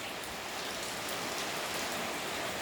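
Steady rain falling, a dense, even hiss of drops on surfaces filling the short stretch without a break.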